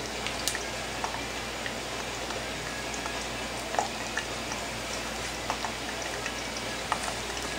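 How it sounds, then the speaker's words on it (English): Chile and garlic oil gives a steady frying sizzle in a pan with scattered small pops and crackles, fairly quiet and continuous throughout. "it's starting to sizzle a bit and pop and make all kinds of wonderful little noises and sizzle"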